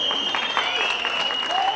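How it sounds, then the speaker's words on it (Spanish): Crowd applause for a contestant at a professional bull-riding (jaripeo) event in Zacatepec Mixe, steady clapping over the full stretch alongside a whistling tone and faint background voices. "Aplauso para el amigo de chamarra gris."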